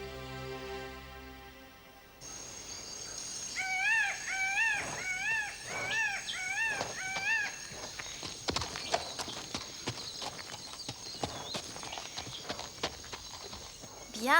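Horse hooves clip-clop at a steady walking rhythm, close and fairly loud, following a brief musical intro; bird calls trill repeatedly over the first half and a voice speaks near the end.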